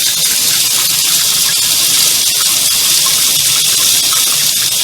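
Hot water from a tankless water heater runs steadily into a sink, a constant loud hiss and splash without pause, nearby and alone.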